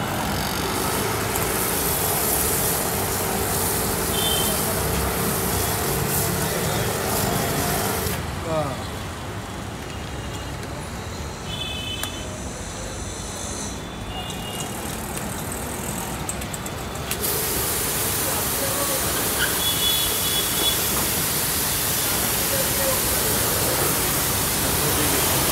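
A GMP 2900 high-pressure washer, rated 180 bar and 4 hp, runs with a loud, steady broadband hiss and motor drone, cutting briefly to a quieter hum before resuming at full force.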